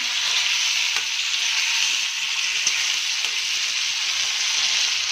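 Chopped tomatoes sizzling in hot oil in a pan for butter paneer masala, a steady, bright frying hiss that runs unbroken and fairly loud throughout, with no voices.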